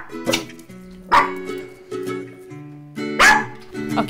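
A small dog barks repeatedly, close and loud, with tonal yips and whimpering bow-wows in an uneven rhythm of about five bursts.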